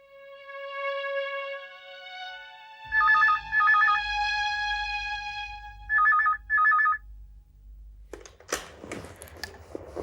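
A phone rings with an incoming call, a melodic ringtone that repeats in two short bursts of double rings, followed by rustling and handling noises as it is picked up.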